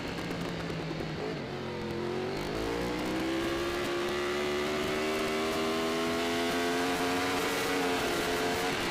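Kawasaki racing motorcycles in a Formula Pacific race roar steadily on a track, engines sustained and loud throughout with rising and shifting pitch as the bikes run through the gears, with no talk.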